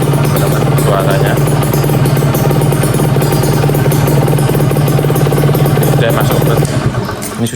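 Close-up two-stroke Kawasaki Ninja R motorcycle engine, freshly serviced, idling with a steady, buzzy hum and mechanical clatter, holding constant before easing slightly near the end.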